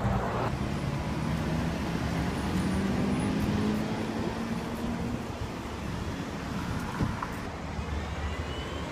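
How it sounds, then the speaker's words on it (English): Road traffic passing a bus stop, a steady wash of engine and tire noise from nearby vehicles with a low droning engine rising and fading, no talking. "I'm actively waiting at the bus stop going the other way"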